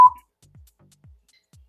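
A single sharp electronic censor beep sounds at the very start, followed by a few faint low murmurs.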